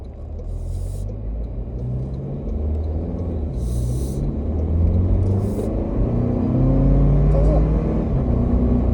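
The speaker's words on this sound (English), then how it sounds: "It sounds like a 4-cylinder. Sounds kind of strainy, but it's peppier than my 4Runner." A Toyota Land Cruiser 250's four-cylinder engine drones and rises in pitch as it accelerates, a low strained rumble with brief hissing bursts, steady and close throughout.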